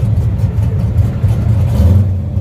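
A drag racing car's exhaust at a dragstrip, heard from close by as a loud, deep, rumbling drone with slight throbbing pulses and no pauses.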